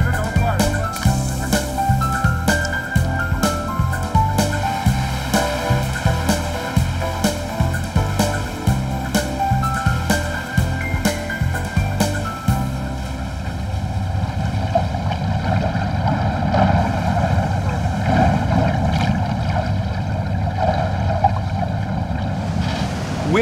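A ship at sea between Copenhagen and Oslo, Norway, running on its engine in the early morning: a steady rush of wind and water carries through, with rhythmic tonal pulses in the first half giving way to broad, even noise.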